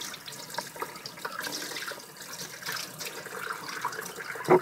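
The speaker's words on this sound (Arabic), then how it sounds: "سمحوا لي نغسل يديا" Kitchen tap runs steadily into a sink while hands are washed, a close, continuous hiss of water with small splashy variations throughout and no speech.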